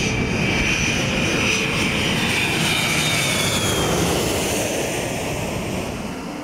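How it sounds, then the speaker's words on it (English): A jet aircraft flying low overhead near Minneapolis-St. Paul International Airport, a loud, continuous roar with a whining engine tone that stays steady and eases slightly toward the end. "The noise from Minneapolis-St. Paul International Airport is tough to escape if you live near it."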